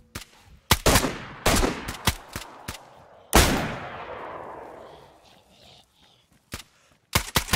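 Unsuppressed gunshots in DayZ, loud sharp cracks scattered across the span, including a rapid cluster early on and a big blast with a long rolling echo, then a few more shots near the end.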